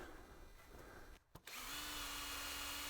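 A power drill whirs steadily after a brief pause, drilling anchor holes in the end of a toad ramp for a pool, its motor tone holding constant and close by.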